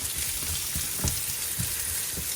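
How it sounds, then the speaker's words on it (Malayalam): Sliced onions sizzle steadily in a pan over medium heat as they cook toward brown, a close, even hiss broken by a few soft scraping stirs. "സവാളി നന്നായിട്ട് ഒരു ബ്രൗൺ കളർ വരുന്നവരെ ഇങ്ങനെ ഒരു മീഡിയം കുക്കിലിട്ട് നന്നായിട്ട് ചെയ്യണം"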